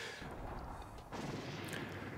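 An ultimate space weapon fires in Kirby and the Forgotten Land, a quiet, low rumbling barrage of booming blasts with a second surge partway through.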